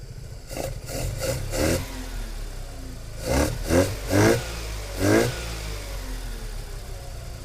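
A Mazda RX-7 with a 12A rotary engine and a rebuilt carburetor idles roughly. It runs with an uneven, lumpy drone broken by several short revs at close range, and no one talks.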